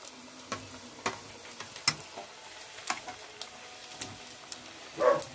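Pre-cooked traira fish balls frying in a pan, with a faint low sizzle under scattered clicks and taps from stirring or turning, and a short louder burst of frying at the end.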